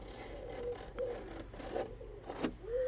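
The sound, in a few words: scoring a line on car wheel arch with vernier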